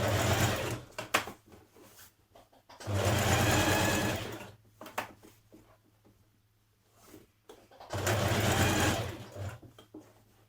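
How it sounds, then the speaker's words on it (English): A sewing machine understitches the lining of a Burda 6320 dress, running in three bursts of rapid whirring stitching, each a second or two long, separated by quieter pauses with small handling clicks and fabric rustles. "Stitch a line of stitching the whole way around"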